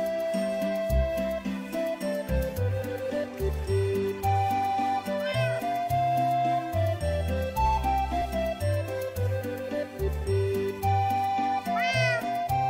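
A cat meows repeatedly in the video game Minecraft, several distinct mewing calls spread over background game music with a steady, looping rhythm.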